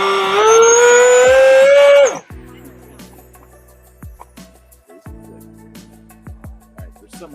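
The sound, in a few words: stuttering throttle of a vehicle, likely an FPV remote-control car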